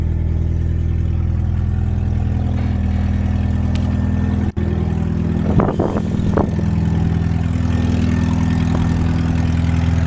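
A car engine idles steadily and then runs a little faster, a loud, continuous mechanical drone with a brief click partway through, no voices.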